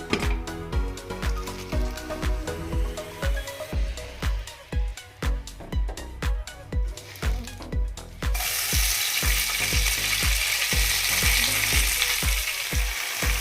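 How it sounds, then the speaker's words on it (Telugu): Gongura leaves cook in oil in a pan over a gas flame, giving a close, steady sizzle broken by regular scraping stirs. Partway through, a louder continuous hiss like running water takes over. "ఒక బాణి పెట్టుకుని గ్యాస్ మీద ఆయిల్ వేసి దాంట్లో గోంగూర వేసి మగ్గ పెడుతున్నానండి"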